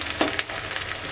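Chilli chicken frying in a pan for a celebratory meal, giving a steady close sizzle with a brief louder crackle near the start and no talk.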